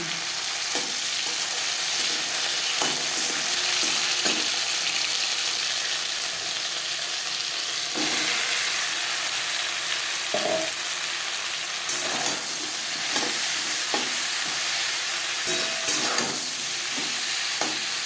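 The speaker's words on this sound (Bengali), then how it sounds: "ভেন্ডি হালকা করে ভেজে নেব তিন চার মিনিট" Marinated okra sizzles steadily in hot mustard oil for the whole stretch, a close, even frying hiss with occasional louder crackles and pops.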